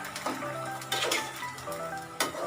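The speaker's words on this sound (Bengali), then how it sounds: "ঢাকনাটা একটু মধ্যে দিয়ে নাড়াচাড়া করব।" Pigeon meat being stirred in a covered cooking pot, with a few distinct metallic scrapes and clinks of utensil against pot over a steady low background hum, close and moderately loud.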